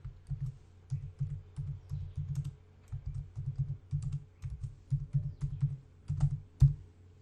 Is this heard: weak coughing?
no